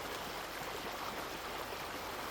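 A river in Canada flows steadily, a continuous broadband rush of moving water over stones, fairly quiet and close, with no voices over it.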